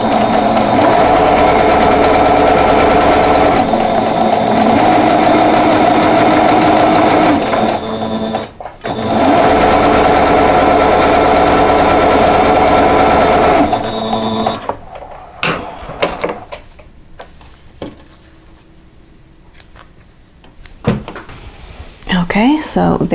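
A sewing machine runs loud and close as it stitches a quilt block seam, with two long steady runs and a brief pause between, followed by quieter handling of fabric.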